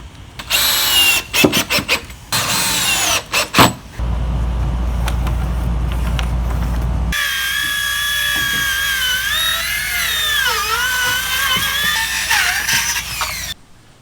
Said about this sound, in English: Now we're gonna install the boards with 3-inch deck screws.